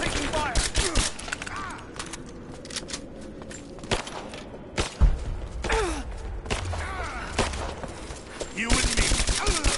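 Gunfire in Rise of the Tomb Raider, with scattered shots and bursts that rise and fall over a steady game ambience, plus brief vocal sounds in places.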